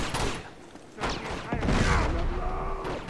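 Bursts of gunfire from the Uncharted 2 video game crack out in short clusters, with a voice talking over the shots partway through.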